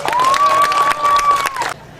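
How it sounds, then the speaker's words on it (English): Audience at a Renaissance fair bursting into cheering and applause with a sustained shout riding over the clapping, loud and close, cutting off sharply near the end. "Laughter. And thunderous applause."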